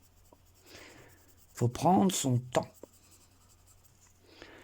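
Luminance colored pencils layered over two earlier colors on paper for a wood-grain effect give soft, dry scratchy strokes, heard before and after a short spoken phrase.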